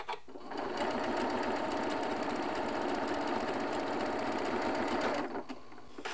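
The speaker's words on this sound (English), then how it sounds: "you're going to butt these fabrics right against that needle, stitch with that quarter inch seam" A sewing machine stitching a quarter-inch seam on quilting fabric runs in one steady, close, fast mechanical whir for about five seconds, starting and stopping cleanly with no talk over it.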